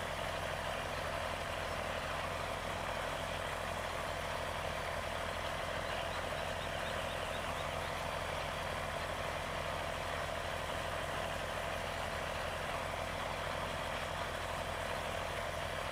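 A steady, droning tractor engine in Farming Simulator 17 labors slowly up a hill. The rumble is constant and low, with no breaks and no talk.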